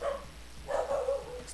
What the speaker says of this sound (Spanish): Estúpido perro.